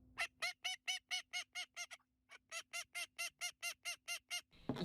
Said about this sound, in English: In case you didn't know, male and female ducks sound different.